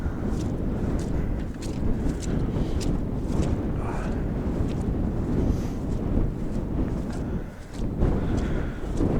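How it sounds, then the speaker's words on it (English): Wind blows across an outdoor microphone beside floodwater at Sutton Gault in the Fens, a continuous loud rumbling buffet that rises and falls in gusts throughout, with no clear speech. "Bit of a wind blowing across from the right."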